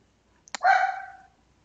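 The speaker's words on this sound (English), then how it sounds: "you hear my dogs" A single short bark from a household dog, sounding alone after a faint click, fairly close and moderate in volume, then fading into quiet.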